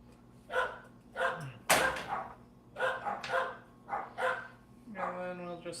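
Dogs in a home kitchen let out a series of sharp, close barks and yips at an irregular rhythm, ending in a higher whiny yelp, with a faint steady hum underneath.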